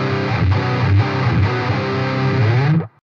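Electric guitar played through a Harley Benton Extreme Metal pedal with the drive at full, giving a thick, heavily distorted chugging tone for about three seconds before cutting off abruptly.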